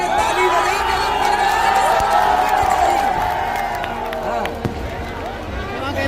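A live stage show crowd claps and cheers loudly in a continuous wash of applause and whoops, with a voice over a speaker system partly audible under the noise.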